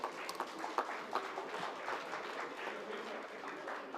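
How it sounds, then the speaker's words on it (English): Audience applause at an auto retail industry conference session, steady dense clapping from a seated crowd sustained for several seconds with no break. "Let's have a big round of applause"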